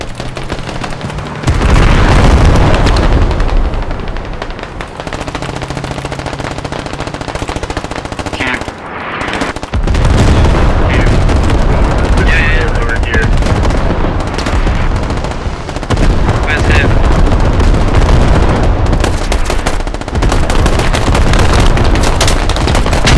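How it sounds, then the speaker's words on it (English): Heavy, continuous machine-gun bursts and gunfire mix with booming mortar impacts in the infantry shooter video game Squad, loud and dense throughout with short pauses between volleys. "Enemy mortars."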